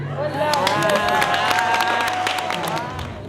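A crowd applauds at an ambassador's welcome reception, dense clapping with some cheering and chatter that swells, holds steady, then slowly thins.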